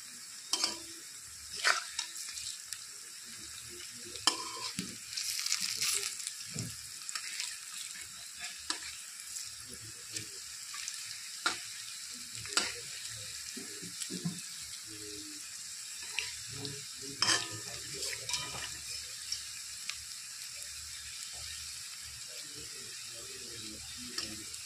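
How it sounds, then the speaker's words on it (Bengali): Red cabbage fritters (bara) fry in oil, giving a soft, intermittent sizzle broken by scattered clinks and scraping of a spatula turning them, fairly quiet and close. "তো আরেক পাশও ভেজে নেব লাল"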